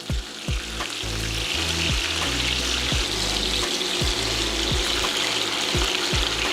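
Chicken browning in a hot pan for smothered chicken, a steady loud sizzle and crackle running throughout with no voices.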